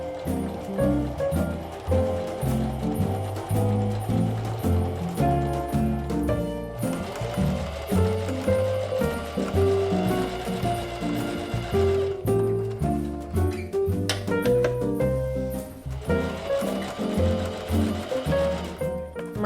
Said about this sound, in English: And then we are just gonna sew all the way down that line.